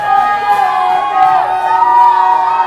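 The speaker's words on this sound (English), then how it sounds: "Parents cheering them on, trying to get them fired up." Parents cheer and shout at a youth 10U hockey game, a loud crowd of voices and whoops rising and falling close by over the rink for a couple of seconds.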